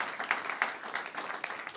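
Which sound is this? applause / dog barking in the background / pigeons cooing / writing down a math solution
applause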